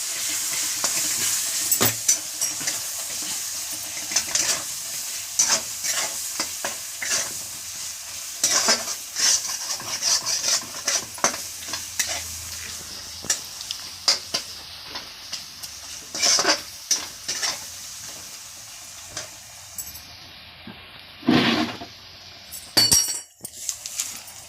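Turmeric being stirred into well-fried onions and tomatoes in a pan, with repeated scraping and clinking of a spoon against the pot over a soft sizzle, the strokes coming in uneven bursts.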